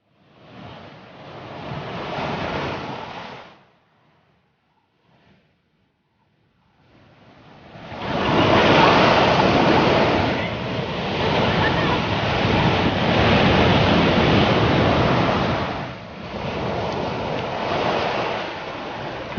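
Sea waves breaking and rushing up a sandy beach, loud and close with steady surf roar and wind buffeting, a quiet gap early on before the waves swell back strongly and continue.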